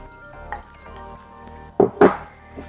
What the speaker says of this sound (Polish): I wszystko razem mieszamy.